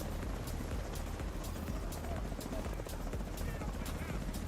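Helicopter in The Division 2 shooter game, a steady low throbbing rotor drone holding throughout with faint rhythmic chopping, fairly quiet and continuous under game sounds.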